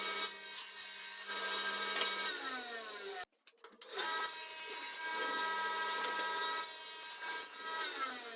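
Woodworking tool cutting a wooden shaker cabinet door panel, a steady high rasping whine with a brief pause midway before cutting resumes, moderately loud and close with no talk.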